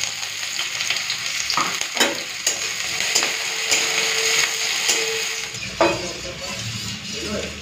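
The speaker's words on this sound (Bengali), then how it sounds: "তেলটা গরম হয়ে গেছে, চেরা কাঁচা লঙ্কা আর পেঁয়াজটা দিয়ে দিচ্ছি" Slit green chillies and onion dropped into hot mustard oil, a loud, close sizzle and crackle of frying, broken by sharp scrapes and knocks of stirring against the pan.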